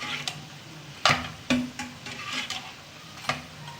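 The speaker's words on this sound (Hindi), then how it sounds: "कम ऑयल में ही शैलो फ्राई करना है इसे, आपने डीप फ्राई नहीं करना है।" Chicken bread rolls shallow-fry in a small amount of oil in a pan, a quiet steady sizzle broken by several sharp clicks and taps of a utensil turning them.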